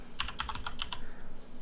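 Quick run of computer keyboard keystrokes, about eight crisp close clicks in a brief burst over a faint steady hum, then silence.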